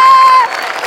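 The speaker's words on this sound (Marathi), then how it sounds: "सगळ्यात आधी आमिर हडकर यांच्यासाठी जोरदार टाळ्या, कारण कन्सेप्ट त्यांची होती." A studio audience at a Marathi comedy show bursts into brief applause and cheering, a dense crowd wash that fades quickly within a second.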